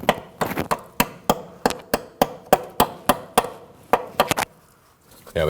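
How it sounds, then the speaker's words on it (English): A brake shim is tapped into place on a 1993-2001 Subaru Impreza front brake, about twenty sharp close hammer taps in a fairly steady rhythm, then a short pause. "If it's difficult to install the shim, you can tap it in."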